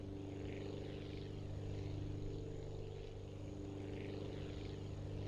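Steady propeller-plane engine drone in the Aviassemble game, a continuous even hum with a humming tone that holds throughout as the aircraft strains down the runway for takeoff.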